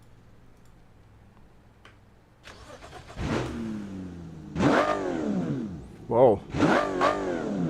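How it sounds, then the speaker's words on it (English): An inline six engine in the Automation car game cranks and fires, then revs sharply several times with rising and falling pitch, starting from a quiet idle hum; a voice briefly exclaims. "another i6 inline 6 engine. Let's hear how it sounds"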